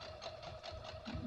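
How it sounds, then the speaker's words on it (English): An old hand-crank sewing machine stitches fabric in a steady, rapid mechanical rhythm, close and fairly quiet, running alone. "I like my old crank sewing machine."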